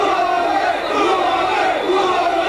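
A dense, loud football crowd roars steadily at Ewood Park, an all-ticket attendance on a windy, sunny March day as Blackburn Rovers face Charlton Athletic, with surging chants and shouts layered throughout.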